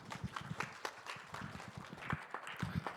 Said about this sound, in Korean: 여러분 뜨거운 박수로 맞이해 주십시오